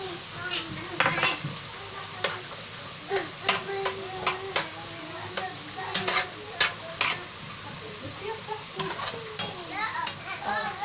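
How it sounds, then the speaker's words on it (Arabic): Chopped onions frying in country ghee in a pan, with a steady sizzle and repeated sharp clinks and scrapes of a utensil stirring against the pan, close up. "انا حطيت حته سمنه بلدي الاول على البصل"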